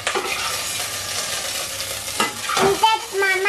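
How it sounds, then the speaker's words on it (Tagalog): Carrots and potatoes fry in hot oil for a beef caldereta, giving a steady close sizzle with scraping stirring strokes and a brief utensil clink toward the end. "Piniprito ko muna yung mga carrots at saka yung potato."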